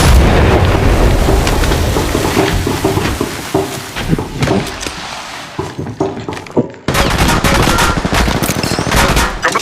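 Rapid automatic gunfire in the mobile battle royale shooter Apex Legends Mobile, loud and close, with dense bursts, overlapping shots and thuds that break off briefly near the end before resuming.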